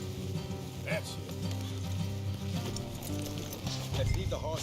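Horses clip-clop along a road in the video game Red Dead Redemption 2, hooves and saddle movement under a steady music bed with faint voices between.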